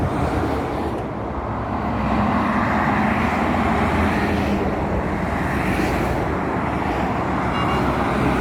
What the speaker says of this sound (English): look at all these lorries coming